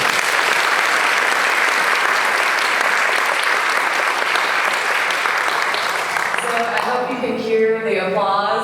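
Audience applause at a summit presentation, dense and sustained for about six seconds before thinning out, with a voice starting to speak as the clapping fades.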